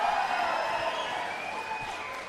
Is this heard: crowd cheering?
yes